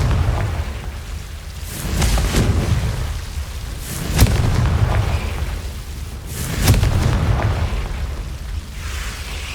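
Confringo blasting spell in the game Hogwarts Legacy, heard as several deep booming bursts, loud and close, spaced a couple of seconds apart over a rumbling background.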